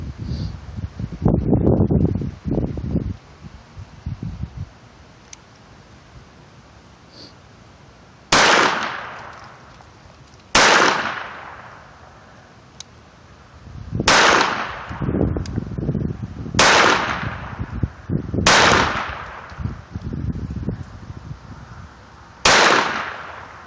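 A Walther P22 pistol fires CCI Mini-Mag rounds outdoors in about seven sharp, loud, evenly spaced shots, each with a decaying echo and some wind noise between.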